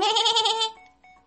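A single sheep bleats close up, a quavering, nasal cry that wavers for about half a second and then trails off.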